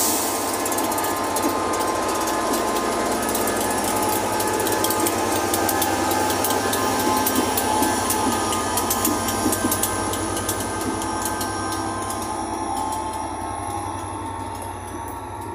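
A train pulls out of Maidstone West station on the Medway Valley Line, a steady loud rumble of wheels and carriages with squealing and clicking rail noise running continuously throughout.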